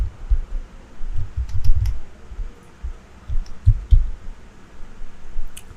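Typing on a computer keyboard, heard as muffled, thumpy key presses in irregular clusters, low and close like a desk-mounted mic picking up the keystrokes, with no talking.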